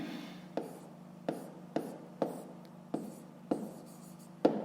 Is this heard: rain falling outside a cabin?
no